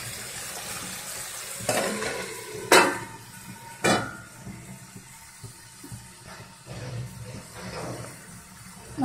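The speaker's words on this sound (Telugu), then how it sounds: "మటన్ ఒక 5 నిమిషాలు ఫ్రై అవుతుందండి" Mutton frying in a pan gives a continuous low sizzle, broken by a few loud metallic scrapes and clanks of a spatula against the pan, close by and at irregular intervals.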